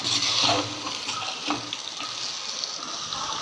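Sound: rabbit meat sautéing in oil

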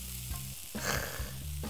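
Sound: rice frying with sesame oil in a frying pan

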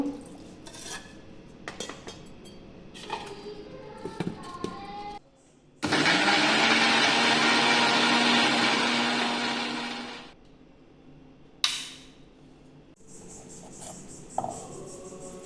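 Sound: blender blending milk for urad milkshake

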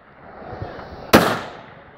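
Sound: precision rifle shot at steel target

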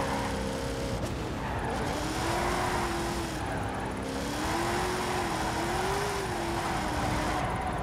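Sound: car drifting on banked track, Forza Horizon 5 video game

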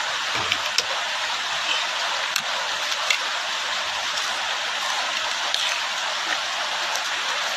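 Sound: rain falling during outdoor cooking

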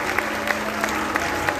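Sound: audience applauding the mayors of Guanajuato

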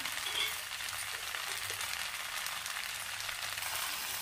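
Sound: stirring and frying jackfruit curry with dal and salt in a pan

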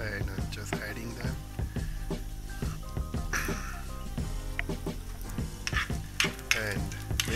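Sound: curry leaves sizzling in hot oil for tempering curd

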